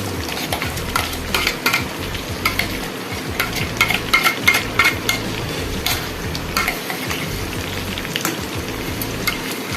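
Steady sizzling and frying of ground onion, garlic and ginger paste with chicken in a pan for black pepper chicken, with occasional stirring scrapes and clinks, continuous and fairly loud with no talking.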